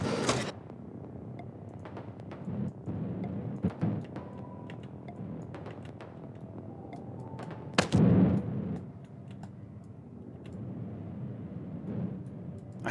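Gunfire in the video game Heat Signature: a few sharp, loud shots stand out, with one heavy blast and rumble partway through, amid quieter mechanical clicks and game effects.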